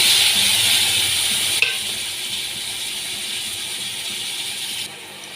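Chopped tomatoes dropped into a hot pan of oil with salt and turmeric for an egg and soy chunk curry, giving a loud continuous sizzle that softens after a brief clatter, with no talking.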